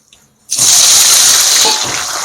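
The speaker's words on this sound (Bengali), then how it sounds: "তেল গরম হয়ে গেছে এবার তেলের মধ্যে এগুলোকে দিয়ে দেব অল্প অল্প করে" Sliced jackfruit chips go into hot frying oil with a sudden loud, steady sizzling hiss that begins after a brief quiet moment and holds, close up, with no talk.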